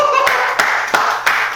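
Four crisp, evenly spaced hand claps ring out in a 20-pyeong Trimage apartment interior, close and fairly loud over a faint steady background hum, with no talking.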